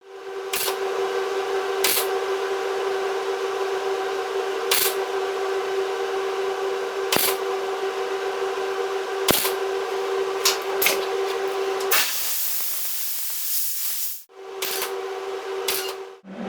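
Welding a crack on the bonnet of a Triumph Spitfire with small spot welds and a light bead: a steady, close buzz that runs continuously, broken by short sharp crackles, then a brief pause before it resumes.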